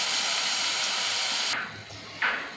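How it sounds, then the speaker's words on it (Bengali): Ginger and onion paste sizzles and fries in hot oil for a mung dal dish with duck skin, a steady loud hiss that cuts off halfway, then a brief fresh sizzle. "মশলাটা একটু আগে ভালোভাবে কষিয়ে নিই।"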